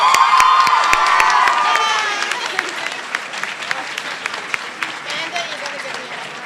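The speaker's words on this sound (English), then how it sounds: "One more round of applause" A school audience at the BHS Poetry Out Loud finals breaks into loud, sustained clapping and cheers for the 2018 winner, with whoops at first, then tapering to scattered claps.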